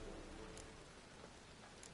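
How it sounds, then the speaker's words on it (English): Steady rain conjured by witches in The Witcher 3: Wild Hunt, a continuous soft hiss of falling drops, faint and even throughout, with no talking. "Witches have conjured rain."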